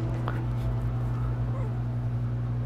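Hounds barking in Metal Gear Solid V, with a few short yips and whimpers rising over a steady low in-game hum and background drone, some voice murmuring faintly underneath.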